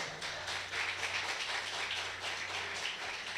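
A church congregation applauds the Lord, a dense, even wash of many hands clapping at a distance, steady throughout with no voices over it.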